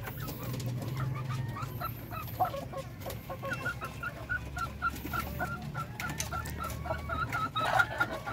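Darag native chickens cluck steadily on a farm, with repeated short calls from several birds at close to middle distance over a low background rumble. No one speaks.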